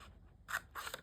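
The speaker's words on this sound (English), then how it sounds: "I can cut straight across" Scissors snip through Graphic 45 patterned papercraft paper for a DIY treat box: two short, close cutting strokes, the second slightly longer, with no talking.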